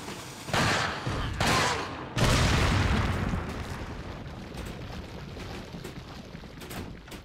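Gunfire in the video game Resident Evil: a few heavy bursts of shots booming close and loud, followed by a long, slowly fading rumble with scattered faint pops.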